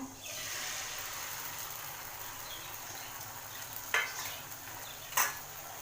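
Beaten egg batter poured into a little hot oil in a frying pan sizzles steadily and softly, with a couple of brief utensil clicks near the end.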